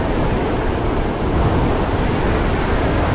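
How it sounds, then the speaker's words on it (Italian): Steady, roaring wind and crashing surf on a beach during surfcasting, a loud continuous wash of noise with heavy gusting buffeting the microphone and no talking. "Il vento non accenna di calare"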